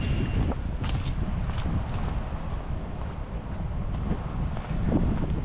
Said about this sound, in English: Oh, I don't like this wind, guys.